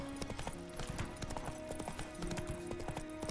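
Roach, the horse in The Witcher 3, moves in a steady run with continuous rhythmic hoofbeats, close and constant over the game's ambient sound.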